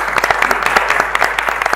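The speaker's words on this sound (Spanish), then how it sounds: "aplauso para ellos." Audience at a tango debate panel clapping for the speakers, a short burst of close, crisp individual claps with a loose rhythm.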